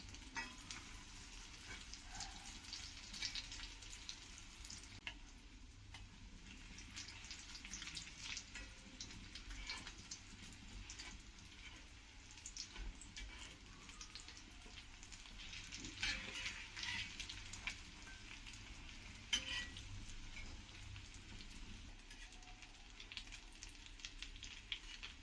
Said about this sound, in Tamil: எல்லாத்தையும் போட்டு ஃப்ரை பண்ணிக்கோங்க.